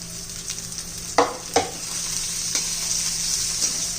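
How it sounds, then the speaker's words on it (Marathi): Onion sautéing in a pan of oil with ginger and green chili makes a steady sizzle close by, with two sharp stirring clatters early on and lighter scrapes after. "आता त्यामध्ये कांदा घालायचा आहे"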